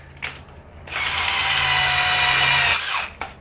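Dewalt 18V hammer drill with a large bit in its 13mm chuck, a loud whirring, ratcheting burst of about two seconds from close by, bracketed by brief handling clicks.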